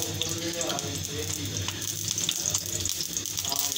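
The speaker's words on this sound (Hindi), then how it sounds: "ये देखें जी अब मैं डाल दी हैं दोबारा से, हल्की हल्की आंच पे ये होंगी फ्राई" Tikki patties frying on a hot tawa griddle over a medium-low flame, a steady close sizzle and crackle of oil running evenly throughout with faint clatter in the background.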